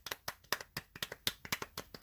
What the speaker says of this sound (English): everyone does like a little golf clap that I can't do because I'm holding the microphone